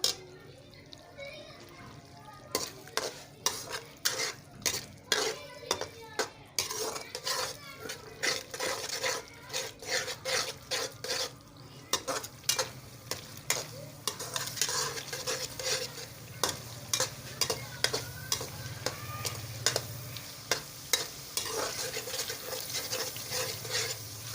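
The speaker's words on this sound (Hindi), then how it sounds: "दही डाल के फिर हमने इसको भूनना है अच्छे तरीके से।" Mughlai shahi dal being sautéed with yogurt in a pan, with a soft sizzle under repeated stirring and scraping strokes, the stirring rhythmic and close, building to a fuller frying hiss toward the end.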